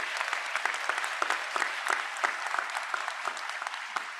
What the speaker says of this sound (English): Please give yourself a warm round of applause.